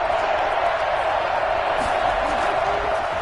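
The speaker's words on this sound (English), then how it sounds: "Crowd getting in it a bit already." Stadium crowd in the Madden NFL 21 video game giving a steady, broad roar of cheering throughout, with no clear peaks.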